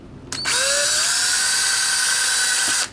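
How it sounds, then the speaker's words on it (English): After a brief click, a drill spins up and bores 2mm holes in a single-handed Switch controller part, holding a sharp, steady high whine close by for over two seconds before stopping. "Okay, so we're going to drill two"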